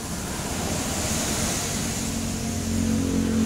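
An older injected Honda Vario scooter with a sputtering, stalling fault, its engine running steadily close by and rising slightly as the throttle is snapped open, a rough broadband drone with no talking.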